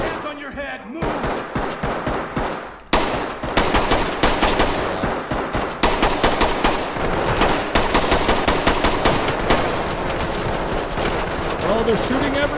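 Dense bursts of automatic gunfire in the tactical shooter game Ready or Not, rapid overlapping shots sustained for the whole stretch, loud and close, with voices mixed in underneath.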